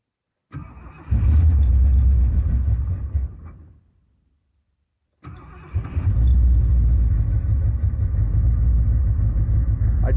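A car engine fitted with Atomic EFI and running on E85 fuel cranks and fires, runs loudly and steadily, dies away into silence, then cranks and catches again with a strong, sustained idle.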